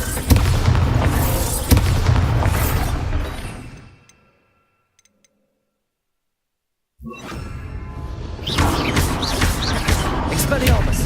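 Spell blast of Bombarda in Hogwarts Legacy, loud booming bursts with whooshing debris filling the first four seconds, then near silence, then another run of heavy explosive impacts from about seven seconds onward.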